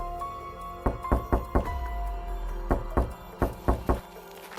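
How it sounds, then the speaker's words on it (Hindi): Knocking on a wooden door, several groups of two to four firm, close thuds spaced across a few seconds against a low hum, with no voices. "अगली रात फिर दरवाजे पर दस्तक हुई।"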